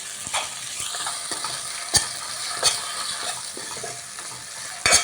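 Masala mixed with two tablespoons of coconut powder sizzles and fries in a new pan on low heat, with a steady soft crackle and several sharp scraping stirs of a utensil against the pan, close up and with no talk.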